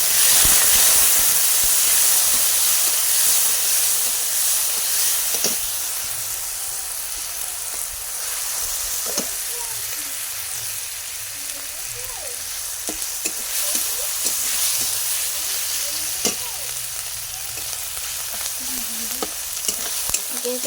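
Tomatoes sizzling in a pan of lentil dal cooking over a clay stove, a steady bright hiss with scattered pops and crackles, loudest at first then settling into a continuous fry with no talk.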